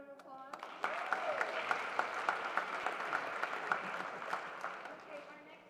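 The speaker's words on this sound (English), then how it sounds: "So everybody give Presley a round of applause." A modest round of applause from a banquet audience for a senior cheerleader at a high school football banquet, fairly quiet clapping with a voice talking over it.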